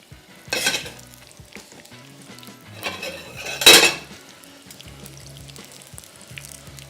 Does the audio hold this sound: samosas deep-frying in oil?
yes